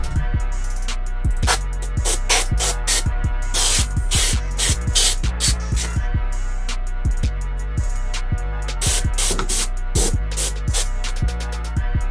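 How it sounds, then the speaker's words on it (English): A compressed air spray nozzle blasts an arcade stick clean in a series of sharp, loud hissing bursts with short gaps between them, close up and with no talk. "So just get you a little air spray nozzle."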